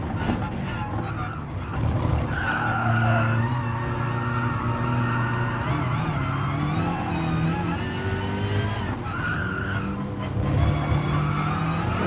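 BMW M6 race car engine droning steadily through corners on a circuit in the Gran Turismo video game, with rising and falling revs and some tire noise, continuous and fairly loud throughout.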